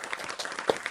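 Applause from a small studio audience at a podcast, a brief burst of scattered hand claps, fairly close and moderately loud.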